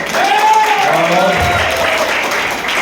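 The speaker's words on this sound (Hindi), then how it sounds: "पारस शर्मा जी भी आए, उन जोरदार तालियां।" Audience applause at a network marketing meeting, a dense wash of clapping throughout with a sustained tonal hum running under it.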